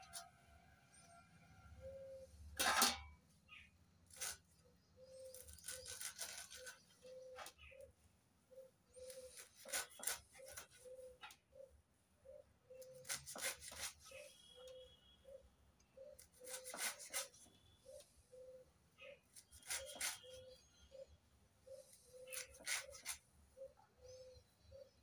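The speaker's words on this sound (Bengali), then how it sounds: "আমি বটি দিয়ে কাটছি" A boti blade cuts bottle gourd leaves, giving repeated short crisp slicing and rubbing strokes close by at an uneven rhythm, with quiet pauses between and faint birdsong in the background.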